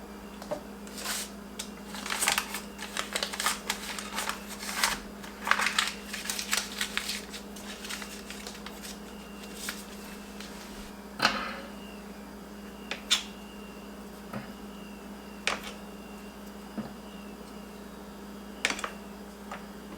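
A knife cutting cold butter into tiny cubes on a board, a quiet series of irregular clicks and soft taps, busy at first and then more spaced out, with no talking.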